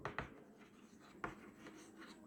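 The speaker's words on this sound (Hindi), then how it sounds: "तो अब हम आगे लिखेंगे" Pen or marker writing during a biology lecture on protein synthesis, faint scratchy strokes with a few sharper taps and scrapes, close and quiet, no talking.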